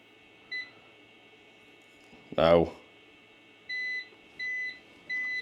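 A darkroom timer set while developing black and white film gives a short beep, then after a dull thud sounds three longer, evenly spaced beeps over a faint steady hum; a single brief word is spoken.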